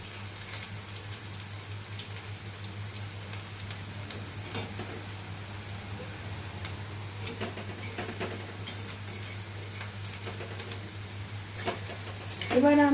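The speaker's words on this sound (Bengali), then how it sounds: "মিডিয়ামে দিয়ে এটাকে আস্তে আস্তে ভেজে নিচ্ছি।" Pui leaf fritters frying slowly in oil over medium heat, giving a soft, steady crackle and sizzle with scattered pops and a low constant hum, slightly louder at the very end.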